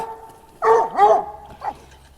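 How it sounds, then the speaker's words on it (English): Bella the dog barks at goats, a few close, sharp barks in a quick pair followed by a softer yip, with light background noise between them. "Bella always wants to bark at them."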